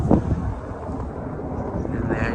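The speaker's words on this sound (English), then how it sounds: "And there's your super fast plane that's no more than 800 feet above my head." A fast airplane passes low overhead, no more than about 800 feet up, its roar a broad, steady outdoor rush mixed with wind buffeting the microphone, with a faint rising tone toward the end.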